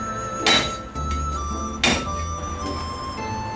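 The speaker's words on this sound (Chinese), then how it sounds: "大蒜少许，用刀撇破。" A kitchen knife smashes garlic cloves on a cutting board, two sharp, loud thwacks about a second and a half apart, with a low background hum between them and no talking.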